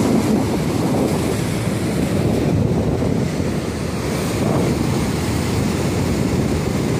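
Ocean waves wash and break continuously around a beach jetty, a loud, steady roar with wind buffeting the microphone and no voices.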